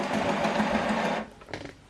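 An HP DeskJet 2622 printer's ink cartridge holder slides across inside the open unit with a loud, steady mechanical whir, then stops abruptly, leaving faint clicks and rattles.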